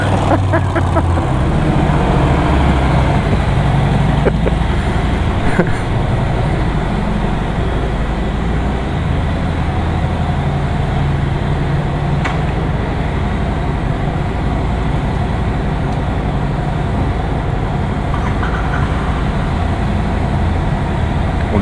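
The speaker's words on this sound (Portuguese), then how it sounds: "Pra galera ouvir o peidinho da sua moto." Royal Enfield Interceptor 650 motorcycle engine rumbling steadily and loud throughout, with a few sharp, brief exhaust pops breaking through the continuous drone.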